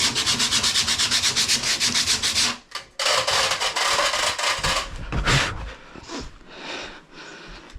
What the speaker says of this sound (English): I thought I was done with sanding